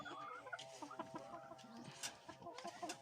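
Lemon roundhead gamefowl roosters clucking, several short cackling calls scattered irregularly over a few seconds, moderately close with faint farm background.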